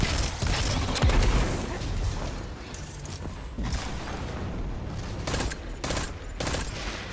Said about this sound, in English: That explosion didn't go far enough.